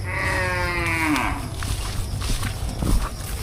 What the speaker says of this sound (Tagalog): Kambing na yun.